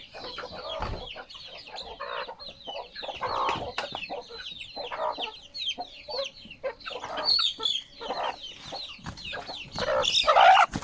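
Chickens clucking repeatedly at an African village home in the morning, several birds close by in a busy, overlapping stream of clucks with no talk.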